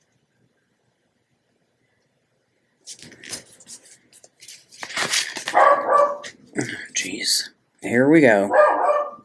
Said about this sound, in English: Say hello to my little barky friends.